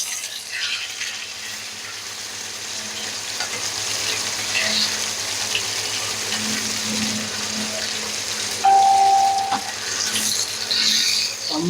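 Fish frying on a tawa in a home kitchen, sizzling steadily and close by throughout, with soft scraping and stirring as the pieces are flipped, plus a brief clink and faint splash of water.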